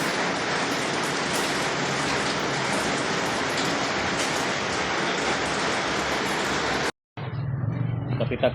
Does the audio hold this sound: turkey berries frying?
no